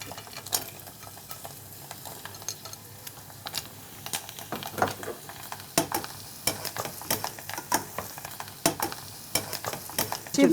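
Chips frying in hot oil in a home cooking setting, a soft continuous sizzle punctuated by irregular clicks and scrapes of stirring, fairly quiet and close, no speech.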